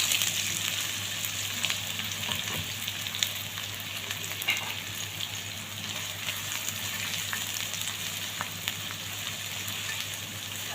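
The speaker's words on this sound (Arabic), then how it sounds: "هبدأ انزل بمعلقتين السمنة كده، وبعدين نحط البصل" Onions frying in ghee in a home kitchen, a steady, fairly loud sizzle with a faint crackle running evenly throughout, with no talking.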